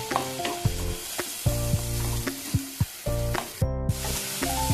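Ginger-garlic paste goes into frying onion in a pan, bringing a constant hiss with repeated sharp stirring clacks at irregular intervals, under prominent background music.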